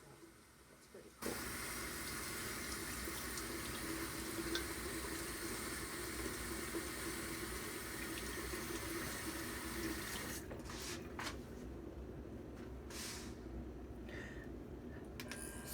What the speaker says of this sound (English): Rinse your face, just wash your face